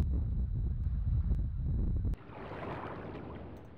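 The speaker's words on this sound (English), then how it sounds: "And this is the sound of the volcanic rock" A video game's volcanic rock sound: a deep rumbling roar abruptly drops away into a softer, crackling hiss that continues steadily.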